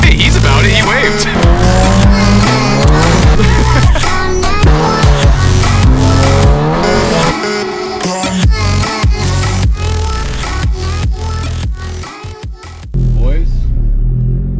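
VW GTI fitted with an IS38 turbo and an Audi RS3 in roll races, loud close engine roar with squealing tires and rapid gear changes, voices shouting over the din throughout.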